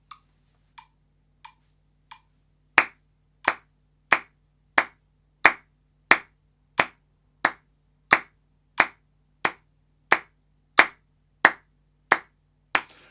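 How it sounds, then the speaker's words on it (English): Hand claps for rhythm practice: four soft claps spaced evenly, then a long run of louder, crisp claps on every beat in a steady, regular pulse in an otherwise silent room. "So we're clapping on every beat."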